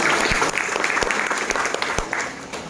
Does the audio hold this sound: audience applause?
yes